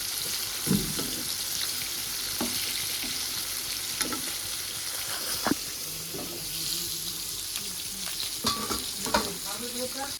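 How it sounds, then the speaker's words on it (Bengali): Eggplant slices fry in hot oil and are turned with a ladle, a steady sizzle running underneath with repeated metallic scrapes and clinks of the ladle against the pan, close and fairly loud. "বাবা খাবে জন্য বেগুন ভাজা হাতা দিয়ে নাড়ছি"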